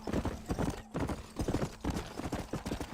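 Steady clip-clop of horse hooves at a walk in the video game Red Dead Redemption, close and continuous, with a brief whinny-like tone and some faint background noise.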